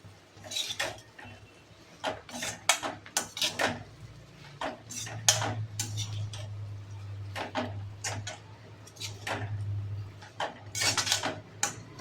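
Cabbage, carrot and capsicum stirred together in a pan, with repeated sharp scrapes and clinks of a metal spatula over a low steady sizzle, fairly close and with no talking.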